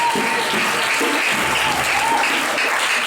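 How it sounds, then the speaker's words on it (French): A large crowd at a church harvest festival gathering at a prayer camp applauds loudly and steadily, a dense wash of clapping that holds level throughout with no break. "Je veux que tu acclames très fort le Saint-Esprit."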